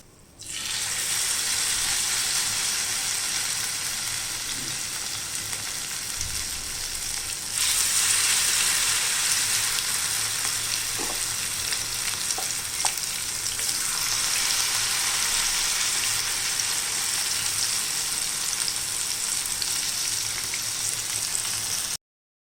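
Corn pancake batter frying in a pan, a steady loud crackling sizzle that runs unbroken and swells brighter partway through, with a few faint clinks and no voices.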